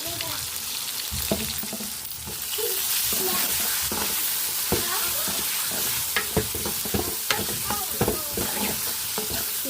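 Sliced bitter gourd fries in hot oil with salt and turmeric, a steady close sizzle broken by repeated scraping clicks of a spoon stirring through the pan, with no voices.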